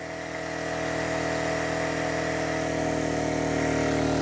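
Champion 2500W dual fuel generator engine laboring at maximum load, a steady loud drone with dense harmonics that slowly sags in pitch as the revs drop, running alone without voices.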